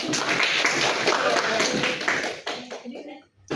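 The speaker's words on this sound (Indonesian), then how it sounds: "Boleh tepuk tangan buat Rangga dulu" Students in a classroom clap for a classmate named Rangga, a brief burst of mixed applause that fades out after about two and a half seconds, with a voice heard near the end.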